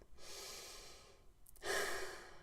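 Slow, deep belly breaths, each drawn in and let out as a long airy rush, close and fairly loud with a short pause between two breaths.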